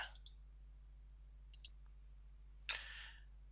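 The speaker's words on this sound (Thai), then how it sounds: "ให้เราคลิกขวานะครับ" Several faint, sharp computer mouse clicks, a quick pair at the start, another pair midway and a louder click near the end, over a steady low electrical hum in an otherwise quiet room.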